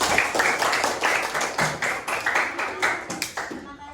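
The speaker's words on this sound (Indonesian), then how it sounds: "Tepuk tangan untuk kelompok kuning." A class claps for a student group in a classroom, brisk, many-handed clapping that keeps up steadily and close for several seconds before stopping.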